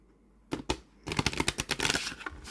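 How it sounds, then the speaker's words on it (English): Oracle cards from a fairly small deck of stiff, thick cards being shuffled close up: two sharp taps, then a quick run of crisp riffling clicks, with no talking. "I'm just going to shuffle the main deck"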